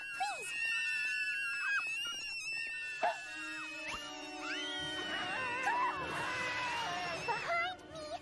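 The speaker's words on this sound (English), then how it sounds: "They scream!" Cartoon children from a My Little Pony episode scream shrilly together in a long, wavering chorus of high-pitched cries, loud and sustained, with a few shouted voices mixed in.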